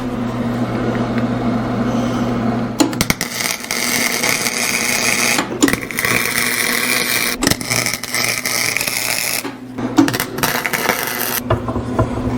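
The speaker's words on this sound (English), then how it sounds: "So I'm going to use MIG welder. This is flex core." A flux-core MIG welder buzzes and crackles steadily in several long bursts with brief pauses, close by, during clutch and brake repair on a Caterpillar D4 crawler. No talk is heard.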